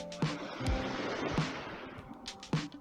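Soft water from small waves in a cove at Djerba lapping and gurgling close by, with a few gentle splashes at irregular intervals over a low wash.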